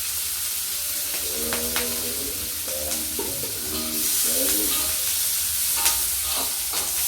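Shallots and chilies stir-frying in hot oil for an Indonesian oseng dish, a steady close sizzle and hiss with scraping stirring strokes and a few clinks; a voice speaks briefly over the cooking.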